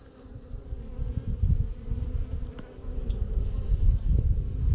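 Agitated honeybees buzz continuously and loudly at an opened hive during an inspection, a dense, steady drone with a few sharper passes close by and no one speaking.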